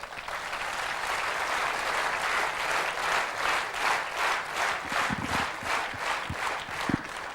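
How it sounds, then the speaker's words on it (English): An audience at a company induction program claps hands in a continuous, even round of applause, fairly loud and close, with a few sharp thumps near the end. "Sir, clap hands."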